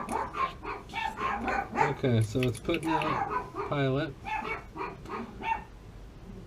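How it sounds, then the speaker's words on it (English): Several dogs bark repeatedly nearby in an uneven, overlapping rhythm while someone talks over them next to a Rheem 2014 gas water heater. "I know it's hard to hear anything but those dogs"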